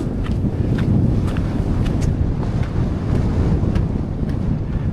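Strong gusty wind roars steadily across the exposed Helvellyn mountain ridge near Striding Edge, a loud continuous buffeting rumble on the microphone with no voices.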